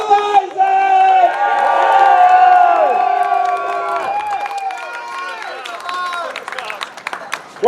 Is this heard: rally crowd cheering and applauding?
yes